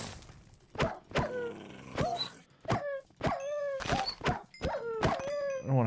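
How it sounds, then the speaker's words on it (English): Dogs in the block-style game GregTech: New Horizons give a run of about eight short, close barks and yelps, each a sharp burst with a falling whine, spaced roughly every half second. "I think these dogs are going to come at me."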